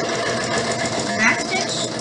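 A sewing machine stitches pillowcase fabric forward in a brief, close, rapid mechanical whir, with a voice speaking over it.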